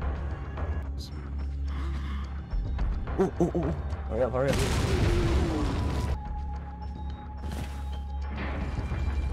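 Gunfire and booming shots in the Resident Evil 4 video game, with bursts of firing and crashing amid game sounds while a player talks over the action.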